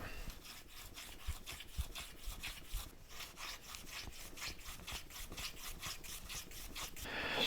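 Repeated rhythmic rasping strokes sound close up as a chamfer is cut on the edge of a wooden shadow box, each pass scraping briskly against the wood.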